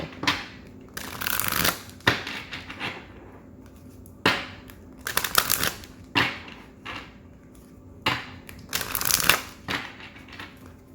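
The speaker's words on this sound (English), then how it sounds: "I feel like I need to get a really good shuffle for this pile." Tarot cards are riffled and shuffled in repeated bursts, crisp rapid flutters separated by short pauses, close and clear with no talking.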